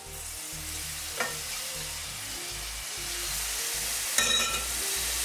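Semolina for orange halva sizzles steadily as it is stirred in a hot pan, a continuous close frying hiss broken by a couple of brief scraping bursts, with no voices.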